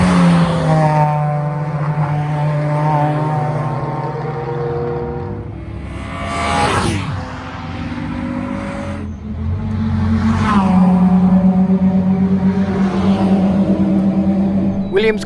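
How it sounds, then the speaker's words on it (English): A 1997 BMW E36 M3 race car with a tuned 320 hp 3-litre engine at a Brands Hatch track day, its engine droning and shifting pitch with gear changes and passing revs, fairly steady and moderately loud throughout. "William's car is a 1997 BMW E36 M3. It has a 3-litre engine that's been ramped up to 320 brake horsepower"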